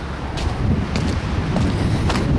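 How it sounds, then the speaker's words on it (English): Strong outdoor wind on a cold day buffets the microphone in a steady, loud rumbling roar with irregular gusty surges throughout. "it's been really, really windy"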